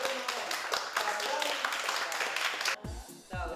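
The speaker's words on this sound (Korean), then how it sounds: "자, 박수." Classroom applause from a group of students, dense overlapping claps at close range that hold steady for nearly three seconds, then break off into a few scattered taps.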